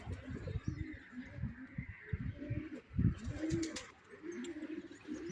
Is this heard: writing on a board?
no